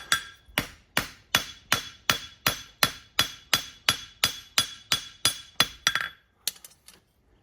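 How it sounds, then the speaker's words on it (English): A blacksmith's hammer draws out metal on an anvil, about fourteen sharp ringing blows struck in a steady, even rhythm, then a few lighter, quicker taps before it stops; close and loud, no talking. "I'm going to draw with the heel of my hammer right here"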